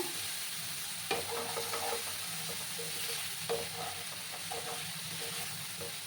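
Spices frying with a splash of water in a pan for a vegetarian pumpkin and potato curry: a steady close sizzle, broken by two sharper bursts of stirring and scraping partway through.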